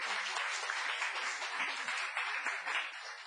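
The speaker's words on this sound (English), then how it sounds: "Don't stop applauding yet" Applause from the audience at a town council meeting, a steady wash of many hands clapping at moderate level throughout, with no voices standing out.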